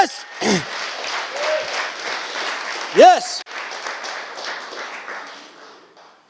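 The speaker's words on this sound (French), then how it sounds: "une bonne main d'applaudissement pour les femmes" Audience applause at a French-language church rally session, a broad wash of clapping running under a loud shouted voice and a brief cheer.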